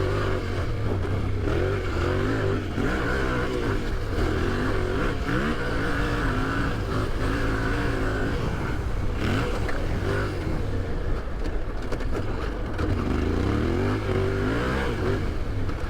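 An off-road motorcycle engine drones steadily and fairly loudly throughout, with shifting revs as the bike brakes and accelerates through a tight corner, and no talking.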